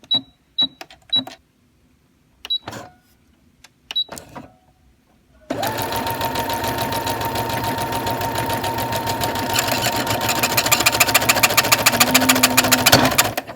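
A sewing machine stitching a buttonhole: a few short clicks and knob taps at first, then a loud, continuous rapid stitching whir with a fast mechanical rhythm that runs close up to the end.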